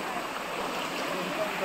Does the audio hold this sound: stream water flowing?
yes